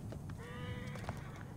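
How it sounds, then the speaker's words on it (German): A horse in Assassin's Creed Origins gives a strange, drawn-out whinnying cry lasting about half a second, set over a constant low rumble of game ambience. "mein Pferdchen macht da unten komische Geräusche"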